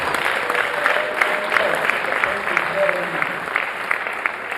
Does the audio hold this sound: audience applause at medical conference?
yes